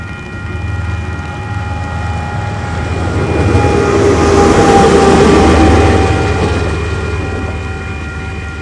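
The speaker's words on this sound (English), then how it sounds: "Now I know DLs are very powerful locomotives, but I still didn't expect 9567 to accelerate as quickly as she did here." A DL class diesel locomotive, number 9567, accelerates on a rainy day in Waikato, with a loud, close engine drone and rising rumble that swells to a peak midway before easing, plus a steady high whine.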